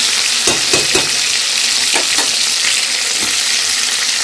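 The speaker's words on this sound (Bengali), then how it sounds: "সুন্দর করে ভাজা হয়ে গেছে বন্ধুরা," Tangra fish sizzles steadily in hot oil in a pan, with a loud continuous hiss broken by a few soft knocks from stirring.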